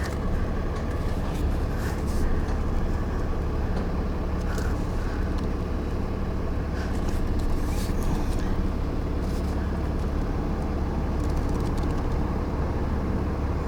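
A Class A truck backs a tiny house trailer into an alley dock, its diesel engine giving a steady, heavy low rumble that holds throughout with faint higher rattles above it.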